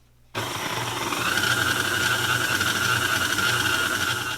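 A stand mixer kneading sourdough pizza dough starts abruptly and runs as a loud, steady motor whir with a constant pitched whine and no speech.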